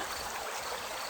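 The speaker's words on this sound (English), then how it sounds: "The sound of gently lapping water creates a soothing melody" A waterfall with gently lapping water gives a soft, steady wash of flowing water, even and unbroken throughout, with no voices.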